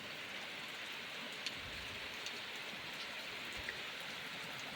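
Steady rain falls in the early morning, a dense, even hiss of drops on surfaces that continues unbroken and close with no voices.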